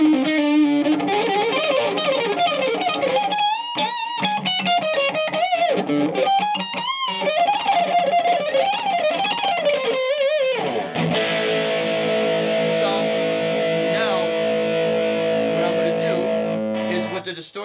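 Guitar played through a Monkey FX pedal with distortion cranked, a loud, saturated bluesy lead with bent notes and fast runs, ending on a ringing, sustained distorted chord.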